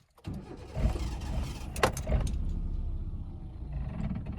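A car engine cranks and catches after a stall, a close rumbling start with a few sharp clicks, then settles into a steady idle during a driving lesson.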